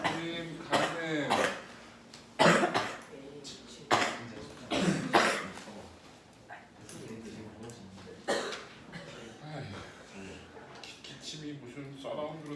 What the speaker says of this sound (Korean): 기침이 무슨 서라운드로 들리고.